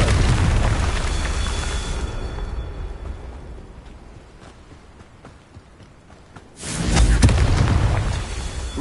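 A spell blast from the Hogwarts Legacy video game bursts with a loud, deep boom that decays into a fading rumble, followed by a second heavy explosion near the end.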